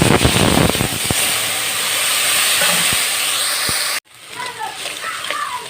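Ginger, cumin, fennel and onion thrown into hot oil burst into a loud, steady sizzling hiss that cuts off abruptly, giving way to quieter frying with light clatter and a voice talking.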